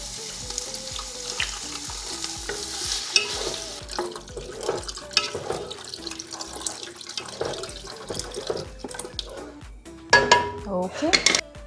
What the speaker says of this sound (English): Okay, our meat is already boiling.